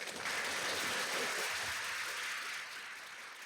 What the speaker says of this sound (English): Please, everyone, also join me in a round of applause as we're able to thank our panelists.